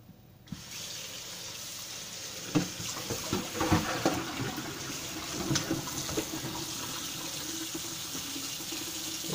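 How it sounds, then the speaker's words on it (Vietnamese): Tap water starts abruptly and runs steadily into a sink, a continuous splashing hiss with occasional clinks, close by and without talk. "xả nước lạnh nha"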